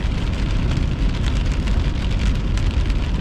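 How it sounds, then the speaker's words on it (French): Steady heavy rain pattering on surfaces during a summer storm chase, a dense continuous hiss close by with no voices. "il y a de la pluie en ce moment, là, où qu'on est"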